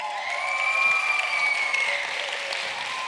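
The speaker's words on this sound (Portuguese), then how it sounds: "Palmas para o Lázaro." An audience claps steadily for a few seconds at a church youth gathering, a moderately distant, even patter of hands with a sustained tonal hum lingering underneath.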